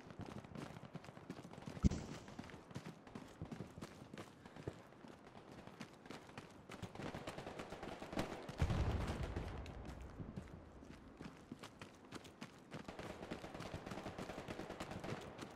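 Distant gunfire in the WWII shooter Hell Let Loose, scattered faint shots and rattling bursts over a steady rumble, with one sharper crack near the start and heavier thuds midway.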